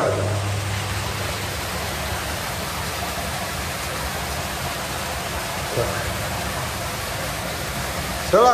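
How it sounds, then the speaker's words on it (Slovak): Water flowing steadily through a cave makes a continuous, fairly loud broadband rush from start to finish, with a brief knock near the middle and another at the end. "Celá to voda ide len odtaď dál."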